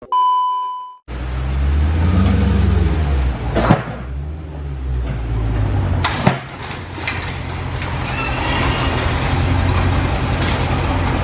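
A 2019 Dodge Challenger 392 with its resonator deleted drives past after a short electronic beep. Its deep, rumbling exhaust swells and shifts in pitch as it moves by, with a couple of sharp knocks along the way.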